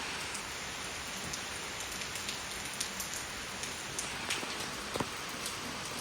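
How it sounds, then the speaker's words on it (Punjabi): Steady, continuous rain falls on open farmland, a dense even hiss of drops with occasional sharper splashes close by, and no voices. "ਹੁਣ ਤਾਂ ਮੀਂਹ ਨਹੀਂ ਹਟ ਰਿਹਾ ਹੈ"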